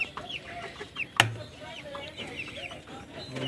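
Month-old Rhode Island Red chicks cluck and peep in a scattered, chattering flock, with a brief louder bump partway through.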